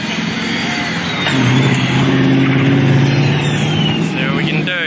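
Nissan Skyline engine revving at a drift and drag event, a loud, sustained rising engine note with people talking over it.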